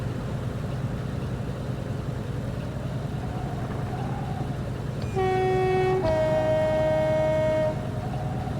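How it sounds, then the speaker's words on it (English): A train passing on the North Wales Coast line in Train Sim Classic gives a steady low rolling rumble, then sounds a loud, sustained two-tone horn for a couple of seconds before it fades. "I'm quite enjoying all the different sort of trains coming past."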